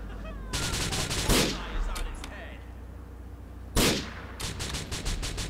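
Rapid bursts of gunfire in Grand Theft Auto IV crackle in two loud volleys, with scattered shots between and a voice talking over the action.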